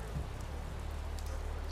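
Rain pours steadily in the video game The Flower Collectors, a dense, even hiss of drops with nobody speaking over it.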